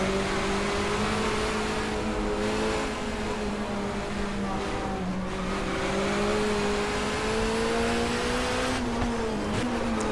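A touring car engine races in GTR2, droning steadily with rising and falling pitch through gear changes, loud and continuous, with faint tire noise.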